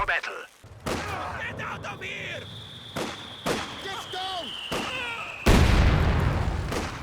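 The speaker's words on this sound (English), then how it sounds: "Good hit from the heavy mortar there" A heavy mortar lands in Company of Heroes 2 amid a battle, with repeated gunfire bursts and a sharp booming impact near the end, while a voice talks over the action.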